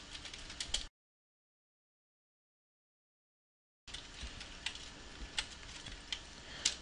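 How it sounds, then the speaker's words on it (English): Typing on a computer keyboard, close and fairly quiet: bursts of quick irregular key clicks with a silent gap between two stretches of typing. "let's go ahead and just type out kind of a welcome message for our user"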